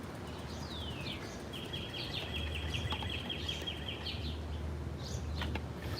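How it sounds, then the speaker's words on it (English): A northern cardinal calls outdoors in Queens, New York: a descending whistle, then a long, fast, steady trill and a few scattered chirps over constant low rumbling background noise. "There's a red cardinal making some noise."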